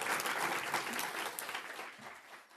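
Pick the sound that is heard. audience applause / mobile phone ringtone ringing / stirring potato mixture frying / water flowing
audience applause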